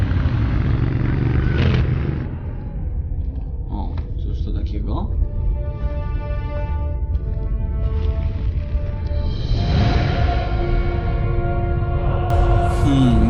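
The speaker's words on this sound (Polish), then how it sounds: "Dobra, skakuj na motor i jedziemy dalej." A motorcycle in the video game Tomb Raider Underworld runs with a steady engine rumble and rising revs, mixed with clatter and game effects under a continuous background.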